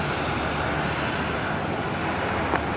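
A Virgin Australia jet idling at Brisbane Airport at twilight gives off a loud, steady engine roar, a continuous broadband rumble heard alone at close range.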